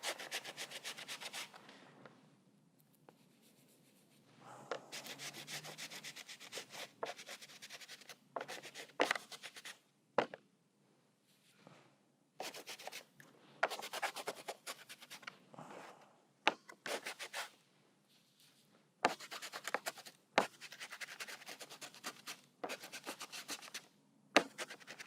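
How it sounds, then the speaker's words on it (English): Brush or tool rubbing over sheetrock mud on a figure painting, producing soft intermittent scratchy strokes in short bursts separated by quiet gaps, close and fairly faint. "Just rub over this sheetrock mud and you get an interesting texture."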